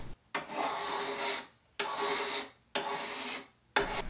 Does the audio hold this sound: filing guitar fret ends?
yes